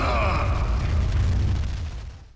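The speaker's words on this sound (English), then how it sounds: "so shots go right through him, but that explosion somehow harms him?" A loud explosion in the video game Sin and Punishment 2, a heavy low boom with a broad crackling rumble that holds steady and then slowly fades out over about two seconds.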